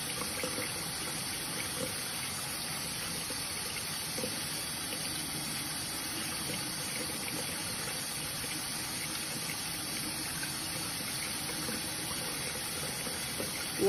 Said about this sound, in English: You want to make sure you wash your hands for at least 20 seconds.